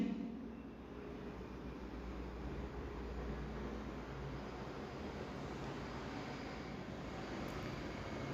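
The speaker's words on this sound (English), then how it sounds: "Cessna Citation." A Cessna Citation jet produces a steady, broad roar of engine and air noise that holds at an even level throughout, fairly distant and unbroken.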